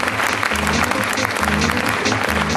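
Applause from an audience at a business recognition event as an achiever is called to the microphone, a steady dense clatter of clapping over a low musical hum throughout.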